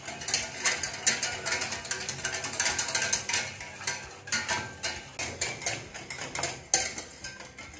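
Chocolate cake mixture stirred steadily in a bowl, giving a close, continuous run of quick scraping and clicking strokes with no talk.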